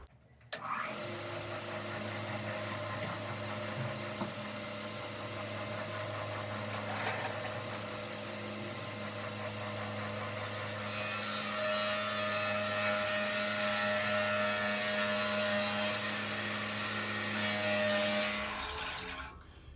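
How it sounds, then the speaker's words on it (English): A table saw runs steadily in a workshop with a continuous humming drone, then grows louder and harsher as its blade cuts along the long side of a wooden toy box, the cut lasting several seconds before the sound drops away. "I've turned my table saw now catty corner in my workshop, and I'm going to run the box through along the long end"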